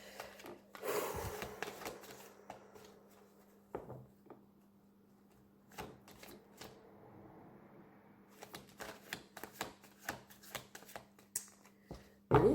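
A deck of cards is shuffled for a reading, quiet and close. Soft riffling bursts and taps come in irregular clusters, separated by near-silent gaps, over a faint steady hum.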